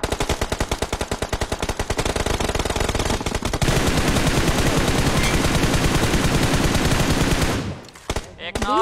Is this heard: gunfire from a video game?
yes